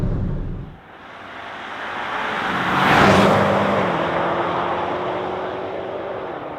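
A BMW M5 roars at top speed, its engine note held steady against the rev limiter under heavy wind and road rush inside the cabin, with a broad swell of noise peaking midway.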